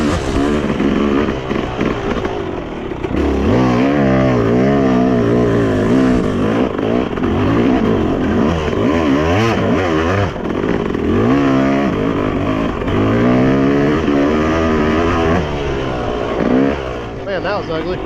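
A Yamaha YZ dirt bike runs around a motocross track with its engine revving and droning steadily and loudly throughout, rising and falling with throttle changes, while people talk over it.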